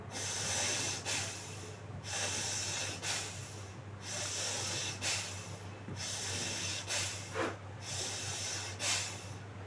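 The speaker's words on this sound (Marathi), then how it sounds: "दोन्ही नागपुड्यांमधून श्वास घ्यायचा सोडायचा दीर्घ श्वास घ्यायचा दीर्घ श्वास सोडायचा दहा वेळा करायचा" Repeated breathing in and out through both nostrils during a pranayama exercise, with steady, close, hissing nasal breaths in a regular rhythm of about one per second.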